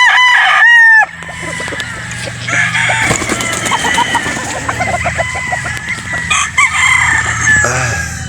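Local banded roosters and chickens, including Sweater Boston fowl, crow loudly near the start, then cluck and stir through a busy farmyard with repeated calls.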